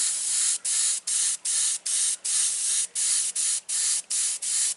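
An airbrush sprays paint in about a dozen short, steady bursts with brief gaps between them while a rose is blended, a close, bright hiss that stops and starts in a fairly regular rhythm with no voices.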